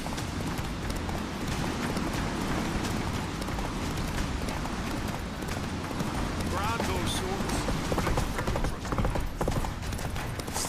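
Horse galloping in The Witcher 3: Wild Hunt, rapid clip-clop hoofbeats running continuously under game voices, with a faint whinny partway through.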